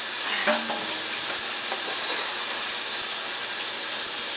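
Beef stroganoff sizzles steadily in a pan while being stirred, a dense close frying hiss with occasional scraping knocks and no talk.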